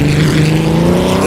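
A 1930s Grand Prix car in Assetto Corsa, its engine note dropping steadily under hard braking and a downshift to first gear, loud and close with a steady droning tone.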